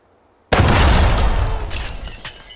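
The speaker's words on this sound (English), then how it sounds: "Are you able to hear those gunshots?" A single loud blast erupts suddenly from silence, likely a shotgun shell going off on a table, and its broad roar fades away over about two seconds with crackling pops near the end.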